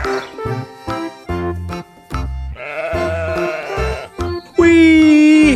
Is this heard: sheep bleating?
yes